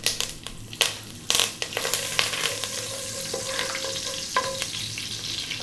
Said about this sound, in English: In goes those green cardamom pods and the curry leaves.